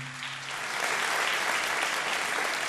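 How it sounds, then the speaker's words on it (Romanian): An audience at a carol concert in Medias breaks into applause for a singer, dense clapping that swells after a brief hum and stays steady to the end. "De artistul și din nou aplauze"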